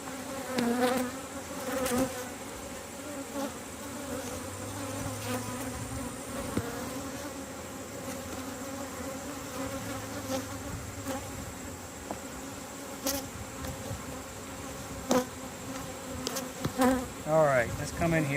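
Honeybees hum around an open hive frame covered in brood, a dense, steady buzz close by with a few louder passes near the end and a voice now and then.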